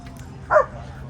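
A single short dog bark or yip, close and brief, from one of a group of dogs, set against low background murmur.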